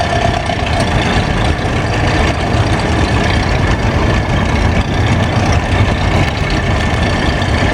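A 1954 Ferguson TEA 2085 tractor engine running at a vintage tractor show, a loud steady rumbling drone that continues without a break.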